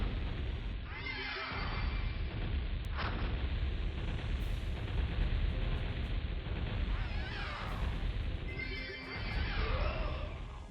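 Cannon towers fire in WarCraft 2 Remastered, two heavy booming impacts several seconds apart over a constant bed of game noise.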